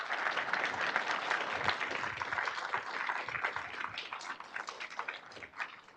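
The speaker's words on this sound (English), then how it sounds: "Can we give them one more round of applause?" Audience at an integrated pest management achievement awards ceremony applauding honorees, a dense, steady round of clapping that thins slightly toward the end, with no talk over it.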